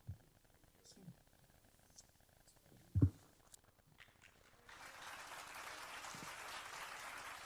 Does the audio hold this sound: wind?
no